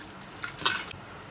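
A short burst of water sloshing and splashing as sago pearls are rinsed in a bowl, then quiet.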